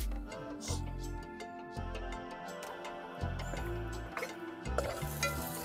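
Spices with turmeric and tomato sauté in a pan for village-style chicken, giving a continuous sizzle under repeated scraping and stirring strokes of a spoon, close and steady throughout with no talk.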